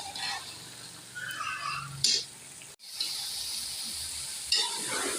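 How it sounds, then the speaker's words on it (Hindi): Chicken and turnip curry (shaljam salan) is stir-fried in a pan, making a steady close sizzling hiss broken by brief louder scraping and stirring bursts, with a short dropout midway. "अब मैं अच्छी तरह इसकी बुनाई करूँगी।"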